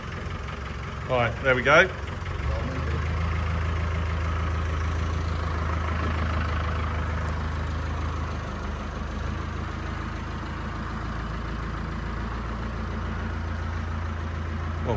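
A one-owner 1995 diesel engine, left sitting for eight years in a French barn, cranks and catches, then settles into a steady, rumbling idle that runs on unbroken, with a voice speaking briefly just before it starts.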